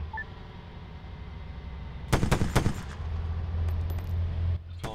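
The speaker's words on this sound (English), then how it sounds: "They got a guy with an LMG up there. Machine gun! Under fire!" LMG machine gun fire in ARMA 3, a tight burst of several sharp rapid shots ringing out over low engine-like rumble, followed by a sustained drone and another crack near the end.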